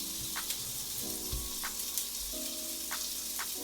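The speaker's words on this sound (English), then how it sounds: "That's what we want with plant-based patties, a nice sizzle." Patties sizzle steadily in a hot pan, a continuous crackling hiss with faint pops, fairly close and without talk.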